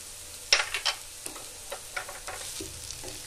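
Egg noodles tossed with soy sauce and salt fry in a pan, a soft steady sizzle broken by a few sharp spatula clinks and scrapes near the start, then quieter stirring with no voices.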